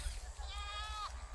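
A single goat grazing outdoors lets out one drawn-out, wavering bleat, close and clear, over a low background rumble.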